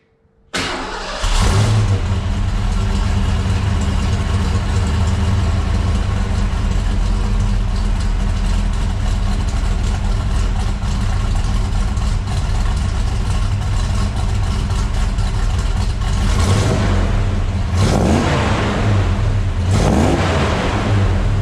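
A 1990 Saleen car engine with a Dynomax exhaust starts and holds a loud, deep rumbling drone, with throaty exhaust revs swelling near the end.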